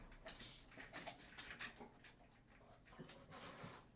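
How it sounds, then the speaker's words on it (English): A pet dog panting softly indoors in a home, rapid breathy huffs repeating steadily over a low background hum, fairly quiet and close, with no talking. "That's our dog."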